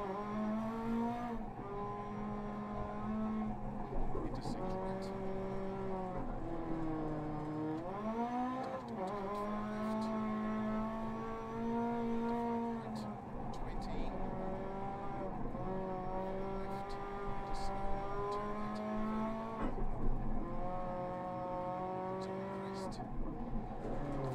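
A rally car engine in Dirt Rally 2.0 drones and revs through shifting gears, with tire noise as the car slides, heard steadily at close range with a voice talking over it at times.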